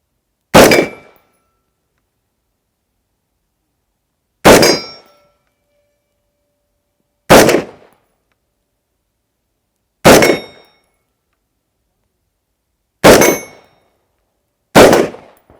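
Six loud metallic clangs ring out at irregular intervals of a few seconds, each a sharp ringing ping as a carbine round strikes steel targets at 40 metres.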